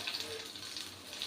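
Egg and potato snack balls frying in hot oil in a pan, a steady, soft sizzle with faint bubbling that holds at an even level throughout.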